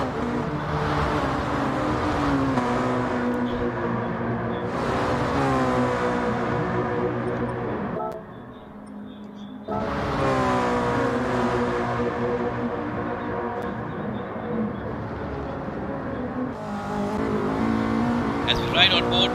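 A race car engine holds high RPM in a sim-racing championship video game, a loud, steady harmonic whine that drops out briefly midway and returns, with a commentator talking over it.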